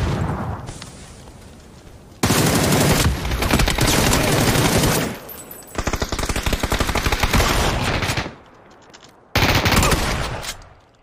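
Loud bursts of rapid automatic gunfire in a shooter video game, arriving in long sustained volleys separated by brief quieter gaps.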